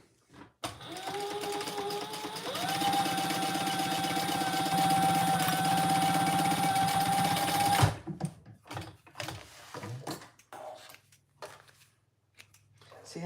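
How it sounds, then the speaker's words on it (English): A sewing machine bastes a seam along a foam pocket, running in one continuous steady hum with a whirring motor tone for about seven seconds before stopping, followed by handling rustles and someone talking nearby. "So just right here along this line. And we're just basting that."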